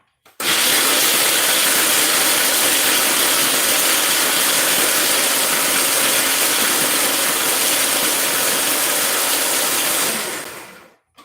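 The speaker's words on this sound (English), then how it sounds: "About to blend them up a little bit. I just want to chop them." A blender roars loud and steady for about ten seconds while chopping pecans, a dense whirring drone that starts abruptly and cuts off at the end, with no voices.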